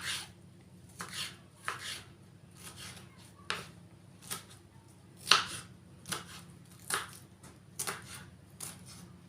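A knife chopping vegetables on a board, about a dozen fairly quiet, crisp cuts in an uneven rhythm with short pauses between strokes.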